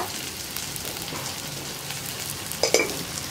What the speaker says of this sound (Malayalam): ഇനി ഉപ്പ് ചേർത്ത് കഴിഞ്ഞിട്ട് നന്നായിട്ടൊന്ന് വഴറ്റുക.